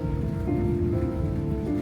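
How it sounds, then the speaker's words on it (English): Rain falls steadily outdoors in Sunset Park, Las Vegas, giving a continuous dense hiss close by with no speech. "Yeah, Becky, it's raining, Becky."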